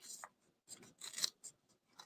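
Cardstock torn by hand into a strip, a few short, quiet, dry ripping and rustling bursts with brief pauses between them, close up and alone.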